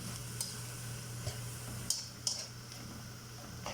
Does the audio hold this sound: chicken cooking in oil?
yes